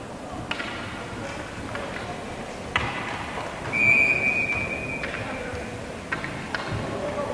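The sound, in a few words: referee's whistle at ice hockey game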